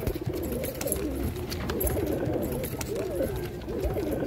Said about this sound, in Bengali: দেখার মতন পয়রা। এই দুটো জোড়া, এই দুটো জোড়া।